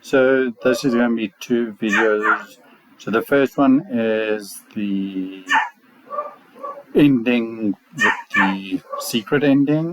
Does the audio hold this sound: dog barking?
yes